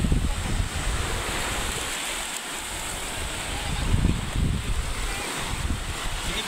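Ocean waves washing onto a sandy island beach on Maniwaya Island, Marinduque, a continuous rushing surf with swells of louder wash, mixed with wind buffeting the microphone.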